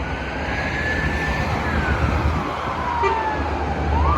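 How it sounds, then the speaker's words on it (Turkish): An ambulance siren wails and sweeps in pitch over a loud, broad rumble of traffic noise, seemingly moving past at moderate distance. "Durun bir saniye. biraz ambulans geliyor."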